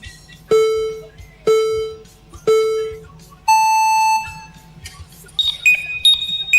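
At a drone racing event, three short mid-pitched beeps count down at one-second intervals, followed by a longer, higher start buzzer, then scattered electronic tones.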